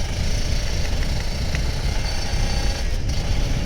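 A Kawasaki Ninja RR 150 motorcycle engine rumbles steadily on the move, with heavy wind buffeting the microphone throughout.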